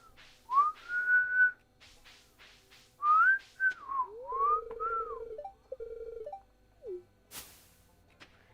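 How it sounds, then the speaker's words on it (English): Someone whistles a short, sliding melody in several bursts, fairly close and clear, over faint Stardew Valley game sounds with a low steady tone underneath. "I can whistle"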